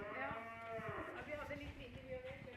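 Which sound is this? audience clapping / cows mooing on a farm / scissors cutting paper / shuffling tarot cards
cows mooing on a farm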